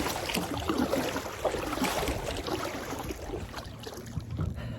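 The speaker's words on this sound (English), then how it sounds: "Can't ask for a much better day to kayak on a lake." Kayak paddling on a lake on a warm sunny day, with a continuous close wash of water and wind across the microphone, soft splashing strokes running steadily throughout without talk.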